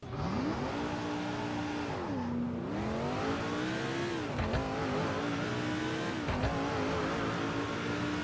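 A NASCAR race car engine on the Indianapolis Raceway Park oval in NASCAR 2005, a loud, steady droning roar that rises and dips in pitch as the car shifts and accelerates, with no talk over it.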